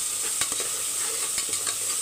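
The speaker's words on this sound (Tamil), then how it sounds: "வெங்காயம் வதங்கி வரட்டும்." Onions, green chillies and curry leaves sauté in a pan for sambar rice, with a steady sizzle broken by several scraping strokes of a stirring spoon; no voices.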